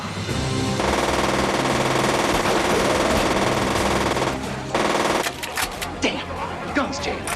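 Machine gun fire from a 1993 film of Journey to the Center of the Earth rattles in a loud sustained burst, then cuts out, followed by scattered clatter and voices.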